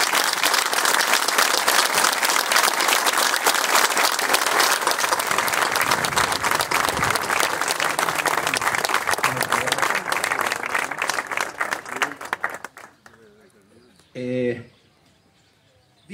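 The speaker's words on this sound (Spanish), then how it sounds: "este aplauso que le vamos a brindar es honor y gloria" A crowd applauds loudly and steadily in honor of Malvinas war veterans at a Sovereignty Day ceremony, then the clapping thins and stops, followed by a brief spoken voice.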